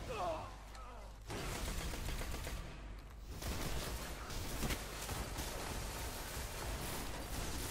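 Automatic gunfire from the Suros Regime in Destiny, a dense, continuous burst of rapid shots close up across the whole stretch, with voices talking over the game audio.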